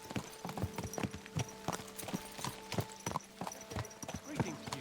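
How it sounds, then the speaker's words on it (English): Steady clip-clop of horse hooves on hard ground in a medieval video game, a regular trotting rhythm close by, with someone talking over it. "Someone's been pampering this horse."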